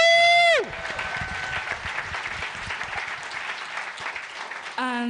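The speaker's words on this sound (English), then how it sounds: "I was going to ask everyone to do a round of applause for the nominees" An audience at a live awards event applauds the nominees, a full, sustained round of clapping from a crowd with a few cheers, bookended by short musical stings.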